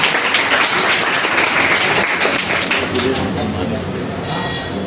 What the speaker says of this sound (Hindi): तो जोरदार तालियों से स्वागत करते हैं।